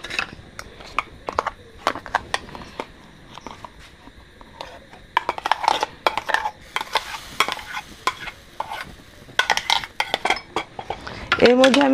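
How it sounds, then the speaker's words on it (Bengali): A spoon scrapes and clinks against a pan as mango puree is worked into roasted semolina for mango halwa, with irregular stirring strokes, some pauses and a soft sizzle near the end. "এবার আমি এর মধ্যে দিয়ে দিচ্ছি আমের পিউরি।"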